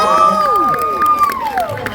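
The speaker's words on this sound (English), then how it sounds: "One more huge round of applause for Kellen Goff." A fan convention panel audience cheers and shouts in a loud burst for a voice actor, with a high whoop rising over the crowd.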